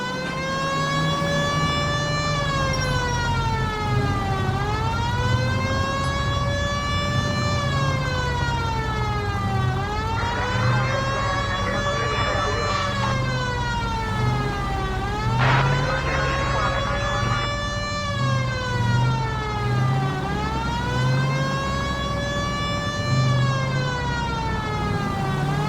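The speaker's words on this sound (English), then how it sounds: "Hit the siren." A police car siren in the video game L.A. Noire wails continuously, rising and falling in long, slow sweeps over a steady engine rumble, loud and close throughout.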